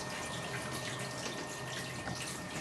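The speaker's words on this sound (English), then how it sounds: "Rinse off your probe." Chlorine analyser probe rinsed under a running tap, a steady broadband rush of flowing water, constant and close throughout the short stretch, with no talking.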